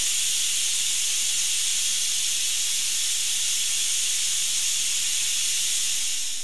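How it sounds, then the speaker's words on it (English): Steam hisses steadily from a cooking pot during pho preparation, a loud, continuous broadband rush that holds for several seconds and tapers slightly at the end, with no talking. "It's been about like 5 to 10 minutes of it just releasing the steam"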